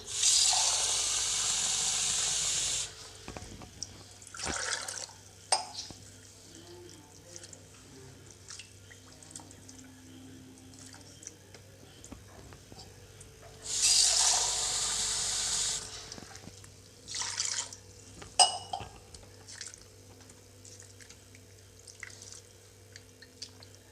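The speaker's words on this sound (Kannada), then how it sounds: "ರವೆನ ನೀರು ಹಾಕ್ಬಿಟ್ಟು ಒಂದು ಸರಿ ವಾಶ್ ಮಾಡ್ಕೊಳ್ತೀನಿ" Semolina (rava) being washed in water: two bursts of tap water pour into a vessel, followed by quieter sloshing, drips and handling sounds between them.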